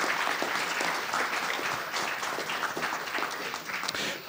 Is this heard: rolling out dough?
no